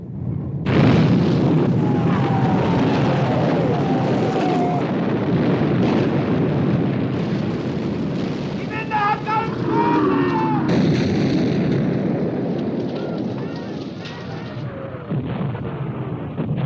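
Naval artillery fire and shell explosions from a 1960 Second World War film about the battleship Bismarck, heavy booming blasts and rumbling roar filling the scene, with shouted orders and a voice speaking over the battle.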